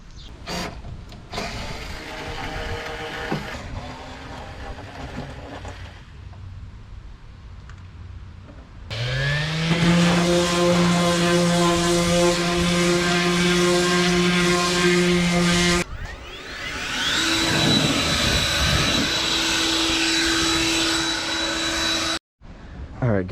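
Power sander working a car hood being reshaped for a widebody, using 40 grit sandpaper: a loud, continuous whining drone that shifts in pitch as the tool speeds up and bears down, nearby and steady.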